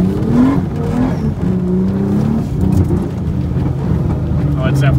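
A Nissan 300ZX Z32 engine breaking up and sputtering, with a loud uneven rumbling drone and wavering tones close by, voices talking over it.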